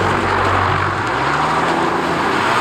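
A BMW M4 GTS being driven, its engine giving a steady, loud drone with a low rumble throughout, close to the microphone and with no talking.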